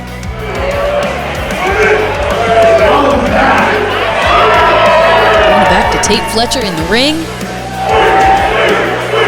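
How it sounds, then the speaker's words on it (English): Wrestling fans at the 1720 Warehouse arena cheer and shout in a loud, swelling roar that rises and falls across the stretch, with a commentator speaking over the din. "the fans here at the 1720 Warehouse showing their appreciation"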